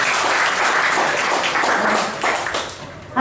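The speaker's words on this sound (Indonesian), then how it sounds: "kasih tepuk tangan buat Tuhan." A congregation at a church youth retreat claps for God; loud, dense applause fills the room, sustained and then thinning slightly toward the end.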